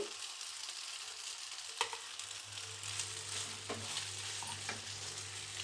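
Boiled vermicelli fries in a pan and is stirred, giving a steady close sizzle with occasional scrapes and clicks of the spoon, no voices.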